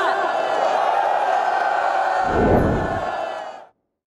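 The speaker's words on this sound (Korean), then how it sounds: "장병 여러분 힘찬 박수와 함성 부탁드립니다" A large group of soldiers roars a loud, sustained cheering shout in unison, holding the cry for several seconds before it cuts off abruptly into silence.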